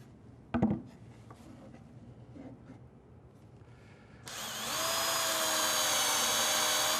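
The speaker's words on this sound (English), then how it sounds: "then I'll mount them permanently with a couple of screws" A power drill drives screws into wooden runners on a table saw sled, starting with a few faint clicks and knocks before a steady, loud whirring drill run sustains to the end, with no talking.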